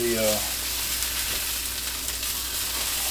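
Conecuh sausage sizzles and fries in a hot pan, a steady close crackle with a brief low stirring hum at the start and no talk over it.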